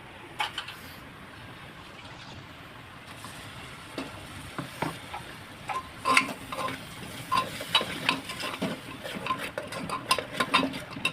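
Ground tomato, grated fresh coconut, turmeric, salt and garam masala sauté in hot oil for a bitter gourd dish, a quiet sizzle under scraping stirs and metal pan clinks that grow busier and louder toward the end, with no voices.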